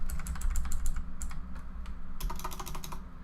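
Someone types a check disk command at the Windows Command Prompt on a computer keyboard: quick, close, uneven bursts of clicking keystrokes with short pauses, and no voices.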